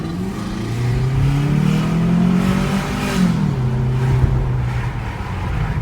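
A Volkswagen Passat W8 engine roars and climbs in pitch as it accelerates, a steady deep rumble rising and then settling, heard up close without talk.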